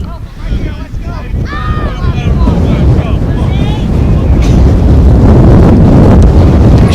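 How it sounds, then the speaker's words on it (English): Strong gust of wind roaring across an outdoor baseball game, a loud broadband rush that builds steadily and stays heavy to the end, with crowd or field sounds faint beneath it. "Huge gust of wind going through right now."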